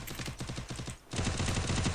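Rapid bursts of automatic gunfire in a 6v6 video game match, a steady rattling stream of shots with a brief pause before a louder, denser volley resumes.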